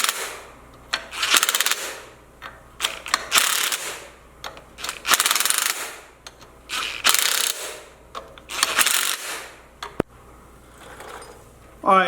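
A ratchet fitted with a 13/16 socket tightens bolts on a Dana 60 axle swapped into a 1979 Jeep Cherokee Chief, and its rapid clicking pawl comes in repeated bursts close by, broken up by clanks and shuffling noises from the work.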